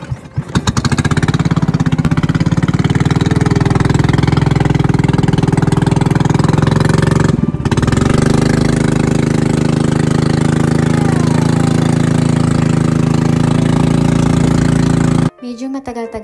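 A motorboat engine drones loud and steady up close while carrying passengers across the water to an island in Bulacan, with one short break in the roar and a cut near the end.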